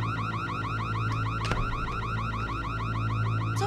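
A car alarm blares close by with a rapid, repeating warbling siren that cycles continuously and loudly, with a brief clatter partway through.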